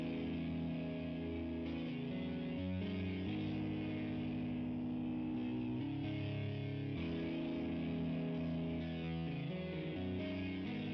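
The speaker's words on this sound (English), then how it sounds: "it's still got this real fat, chunky distortion sound" A distorted synth guitar melody built in FL Studio plays a fat, chunky octave chord pattern, loud and continuous with no voice over it.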